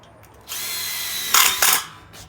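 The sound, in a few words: tek screw gun driving screws into Colorbond fence panel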